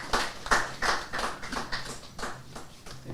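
Scattered, fairly quiet applause at a press conference, a handful of close claps in an uneven rhythm, roughly two per second, with no talk over them.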